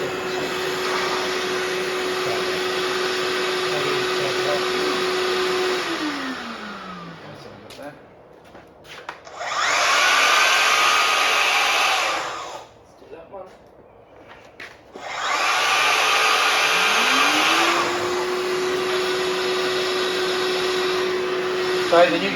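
A Festool cordless dust extractor vacuum starts after a short delay and runs with a loud, steady whine, cuts out, briefly roars again, then restarts and keeps running near the microphone, with talk over parts of it.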